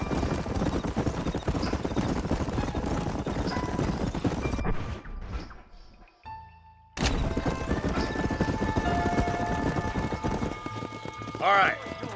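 Horses galloping in Red Dead Redemption on PS5, rapid clip-clopping hooves over music and spoken lines, broken by a short near-silent gap before the hoofbeats resume with a brief whinny near the end.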